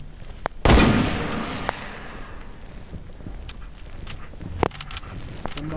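A loud gunshot bursts out in a video game and trails off into a long echoing decay, then fainter scattered cracks and clicks follow.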